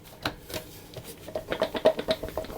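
Flour, icing sugar and salt rattle and patter inside a blender jar as it is shaken for a lemon tart crust, a run of quick soft irregular shuffling bursts, close and fairly quiet, with no talk.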